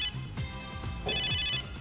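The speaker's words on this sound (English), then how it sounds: "That's my in-gear's ringtone." A phone ringtone from the game Megadimension Neptunia VII chimes in bright electronic pulses, with a few quick bursts in a steady repeating pattern. It plays clearly on its own, with no voices.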